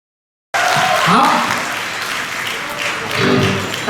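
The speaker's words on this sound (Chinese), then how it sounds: "来邀请你们上台，热烈掌声。" Warm audience applause at a church anniversary thanksgiving dinner, starting abruptly after a moment of silence and continuing as steady clapping with scattered cheers and voices mixed in.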